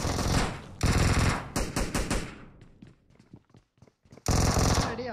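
Automatic weapon fire in the mobile battle-royale game PUBG Mobile comes in loud, dense bursts of rapid shots, with a short stretch of sparser single cracks between the heavy volleys.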